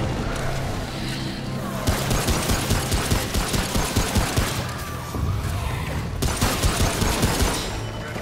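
Rhythmic bursts of automatic gunfire from the shooter game Remnant: From the Ashes come in repeated volleys with short pauses, loud and close, over a rumbling background.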